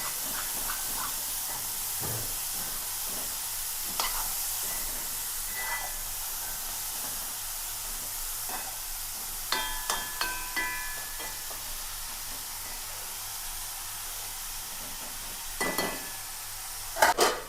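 Spinach stems sizzle gently in a hot pan, a steady quiet hiss with occasional crackles and faint clinks of stirring, no voices over it.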